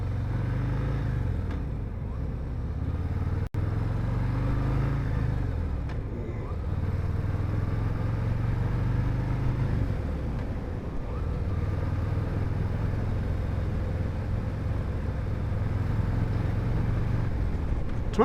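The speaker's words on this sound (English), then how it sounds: "I can see why you guys enjoy riding the Harley Davidson." A Harley Davidson motorcycle being ridden on the road, its low engine rumble droning steadily and loudly throughout, with wind noise and some brief speech over it.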